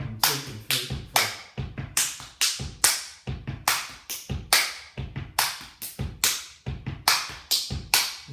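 Hands clap out a steady counted rhythm, sharp close claps in even repeating groups with an extra clap added at the ends, alone without talk.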